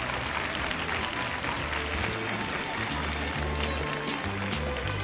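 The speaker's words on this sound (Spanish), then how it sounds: "este fuerte aplauso de todos los niños" Children in the studio audience of the 1982 New Year's Eve special of the Spanish game show Un, Dos, Tres clap loudly and steadily, with music playing underneath the applause.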